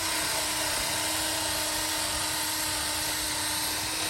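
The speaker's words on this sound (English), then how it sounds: "we're just using that small one because the big buffer don't fit in there" A small battery-powered buffer polishing aluminum pontoon panels, a loud continuous high-pitched whir that holds steady and close for the whole stretch, with no talking.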